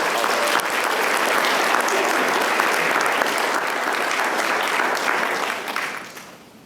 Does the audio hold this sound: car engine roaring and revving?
no